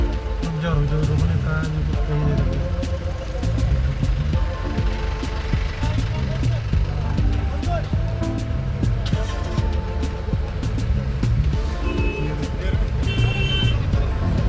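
Cars and trucks rumble and pull away from a long traffic queue on the mountain road near Zojila Pass toward Sonmarg in Kashmir, with engine noise and passing vehicles close by and some voices in the background.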